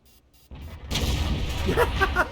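A heavy tank cannon shot in the World of Tanks video game from a Leopard Prototyp A, a sudden loud boom followed by a rumbling tail, with someone talking faintly under it.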